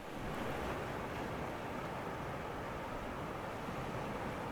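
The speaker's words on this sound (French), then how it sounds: "Ce sont les vagues." Steady broadband wash of Atlantic Ocean surf, a continuous roar with little variation, mixed with wind blowing across the microphone.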